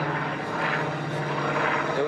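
A North American B-25 Mitchell bomber at the Meeting Air Legend 2023 air show, its piston propeller engines giving a steady, broad droning roar throughout with no spoken voice over it.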